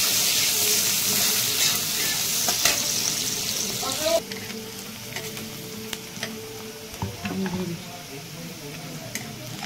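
Steady sizzling of onions frying in hot oil, with occasional stirring clatter and a brief voice underneath.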